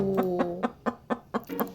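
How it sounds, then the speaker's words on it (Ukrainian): A hen clucks in a quick series of about seven short, sharp clucks, close and clear, with a soft tonal hum underneath. "Це курка. Вона каже ток-ток-ток."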